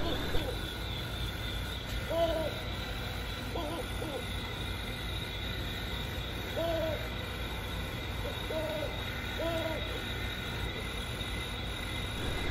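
Animated Halloween bird decoration at a Lowe's store display giving repeated owl-like hoots, several short calls spaced apart over a steady background hum.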